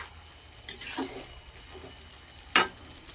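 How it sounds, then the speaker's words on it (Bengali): A spoon stirs mixed vegetable curry in a pan, producing two short scraping bursts over a quiet, faint background sizzle, with no one talking. "এগুলো আমি নেড়ে চেড়ে দিচ্ছি"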